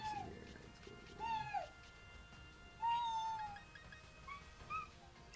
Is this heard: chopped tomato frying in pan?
no